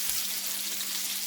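Homemade meatballs browning in a pan send up a loud, continuous sizzle, close and unbroken through a short moment, with no voices.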